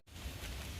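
Rain falls on a hilly palm oil plantation as a steady broadband hiss that starts abruptly after a brief silence, then stays even and close with no speech.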